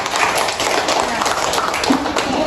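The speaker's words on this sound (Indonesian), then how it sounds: "Tepuk tangan semuanya untuk kelompok 4." Classroom students applaud a student group together, a dense, steady wash of clapping with some voices mixed in.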